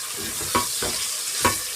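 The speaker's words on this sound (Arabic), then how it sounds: "واشوح بقى البصله مع اللحمه، يعني اسيبها كده ثواني على ما تصفر" Onion and meat sautéing in a pan, a constant sizzle broken by a few scraping stirs at irregular intervals, close and fairly loud.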